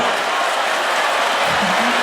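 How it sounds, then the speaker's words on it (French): Audience applause at the Miss Togo 2015 pageant, a dense steady wash of clapping from a hall crowd, loud and continuous throughout with faint voices mixed in. "on avait sollicité des applaudissements pour tout le monde"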